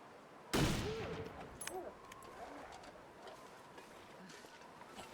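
One sharp rifle gunshot in The Long Dark rings out early and decays slowly, followed by soft bird coos and quiet wilderness ambience.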